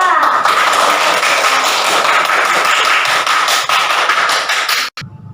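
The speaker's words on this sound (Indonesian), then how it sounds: "Ya, tepuk tangan coba" Children in a classroom clap their hands together in a dense, steady burst that lasts several seconds, then stops abruptly.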